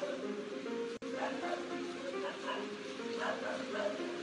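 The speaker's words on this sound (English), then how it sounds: "The insider even managed to get a clip of the guard dog that was standing right outside." A guard dog barks outside a scam call center office, a few sharp woofs and yips at moderate distance over steady background noise and voices.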